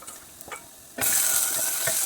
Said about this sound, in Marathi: तर आता हे आपण फोडणी टाकायचं